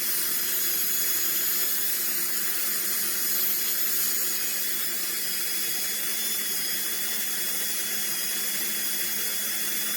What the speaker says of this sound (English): This is a really fine burr, so it's not trimming much each time, which is good.